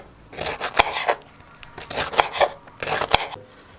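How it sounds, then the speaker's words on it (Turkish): A knife dices bell peppers into cubes on a board in short bursts of quick, crisp cuts with sharp taps, close and clear. "Biberlerimizi şöyle ortadan tekrardan bölüyorum. Ve küp küp doğruyorum."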